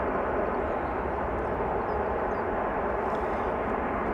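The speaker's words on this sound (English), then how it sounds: "Looks like the pilot flared a little bit too soon, but overall the landing was still gentle" A fixed-wing airliner lands at Amsterdam Schiphol Airport, a steady, loud engine roar that holds evenly throughout, heard from the ground.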